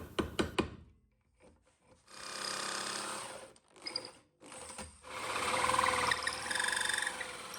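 A hole saw and chisel work through a wooden stair tread: sharp chisel taps at the start, then repeated grinding, rasping drilling bursts broken by short pauses, close and loud.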